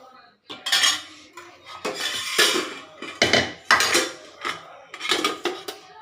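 Metal lids being set onto home cooking pots, giving a run of bright, close clanks and rattles in irregular bursts with short pauses, with no talk.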